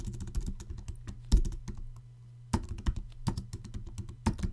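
Python hello world code typed on a computer keyboard, heard as close, crisp key clicks in quick irregular bursts with a short pause midway, and no one speaking.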